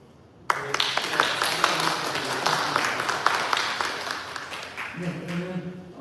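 A church congregation at a Korean Anglican Sunday service breaks into applause, which starts abruptly and sustains as dense clapping before tapering, with a voice speaking near the end.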